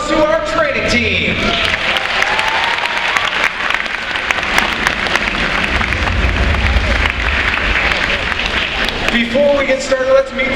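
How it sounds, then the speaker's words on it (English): Loud, continuous applause from a large audience fills the whole stretch, with a few scattered cheers and a voice briefly heard near the start and end. "please give a big round of applause to our training team"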